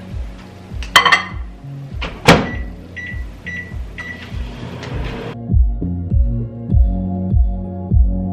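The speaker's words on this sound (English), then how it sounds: "I'm just going to start to melt some of the chocolate in the microwave" A microwave oven running while chocolate melts inside, a steady low hum with a regular throbbing pulse, after a few clinks of a bowl being handled and the door beeping shut.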